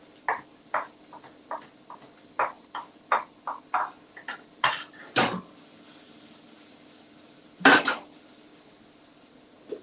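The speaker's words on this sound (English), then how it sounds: "Just give it a rough chop." A knife taps quickly against a cutting board, roughly chopping parsley in a run of uneven chops, followed by a couple of louder scraping knocks.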